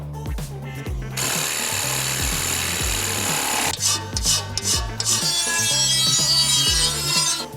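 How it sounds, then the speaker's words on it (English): Aluminium sheet being cut by hand for a jet tank racer seat, a continuous harsh rasping, grinding noise with a steady low thumping rhythm underneath, loud and close throughout. "And then I'm just going to cut it out of metal."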